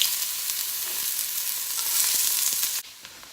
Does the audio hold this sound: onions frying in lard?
yes